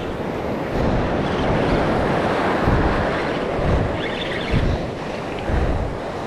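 Ocean waves wash around a small fishing boat at sea, a steady roaring rush with periodic swells surging louder, while wind buffets the microphone throughout.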